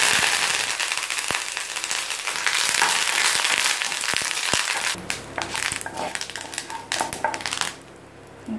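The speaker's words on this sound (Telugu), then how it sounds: "మినపప్పుని వేయించుకుందాం హాఫ్ టీ స్పూన్ జీలకర్ర కూడా ఒక్కసారి వేయిపోయింది" Urad dal and cumin seeds roasting in a hot pan, producing a dense, loud crackle and sizzle with sharp pops, then sparser crisp clicks and stirring scrapes as the sound thins out toward the end.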